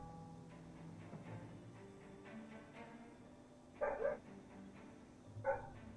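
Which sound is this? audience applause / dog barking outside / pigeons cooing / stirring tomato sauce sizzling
dog barking outside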